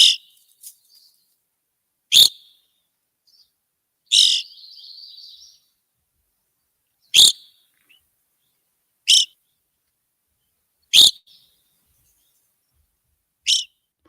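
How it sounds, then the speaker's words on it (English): Evening grosbeak calls played from a recording: seven short, sharp, high chirps spaced a couple of seconds apart, one trailing into a brief buzzy note, clear against silence. "Here is the song, or the cry, of the evening grosbeak."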